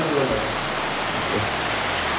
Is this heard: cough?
no